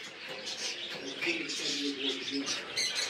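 Small finches, zebra finches among them, chirp and twitter steadily at a bird farm in Barishal. The chatter is soft and continuous, with bright high calls layered over a low background murmur.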